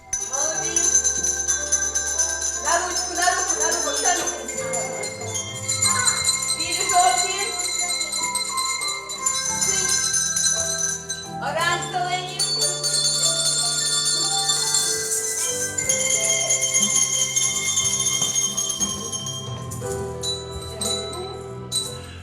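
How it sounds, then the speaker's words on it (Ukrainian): A Ukrainian-Finnish handbell orchestra of hosts and Finnish guests plays a melody, with bright ringing bell notes and layered chimes sounding continuously and clearly throughout. "організували з гостями Українсько-фінський оркестр дзвоників"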